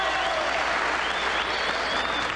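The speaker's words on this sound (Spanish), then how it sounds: "la gente aplaude" A boxing crowd at a Peruvian national junior welterweight title fight applauds in a continuous, dense roar of clapping with faint whistles over it.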